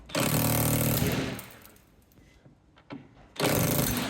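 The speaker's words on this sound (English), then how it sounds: "So I'm going to try with my impact gun and see if that gets it out." Impact gun hammering at a stuck nut in two loud bursts of rattling, buzzing blows with a quieter gap between them, close by.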